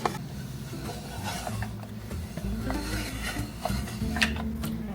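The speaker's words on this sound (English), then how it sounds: "I have this little plunger thing here, and I'm going to grate the butter." Butter is pressed through a small plunger grater, producing a continuous close rasping and rubbing scrape with faint clinks of the utensil.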